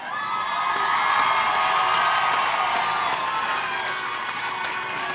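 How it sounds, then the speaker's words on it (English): Graduates at a Bloomfield College commencement ceremony cheer and applaud their parents, a loud, sustained roar of shouts, whoops and clapping from a large crowd filling the hall. "turn around and face your parents and applaud your parents"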